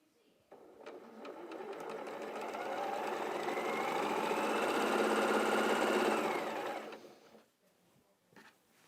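Sewing machine stitching pieces of a quilt block, a close, steady mechanical whir that speeds up, holds a fast even hum for several seconds, then stops, followed by a few faint clicks.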